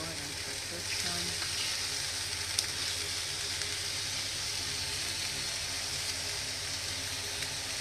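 Tuna steaks searing in a hot pan give off a steady, even sizzle throughout, close and moderately loud, with an occasional faint tap and no talking.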